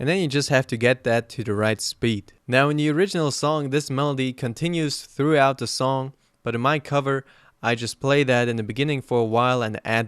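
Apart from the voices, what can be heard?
No everyday noises stand out.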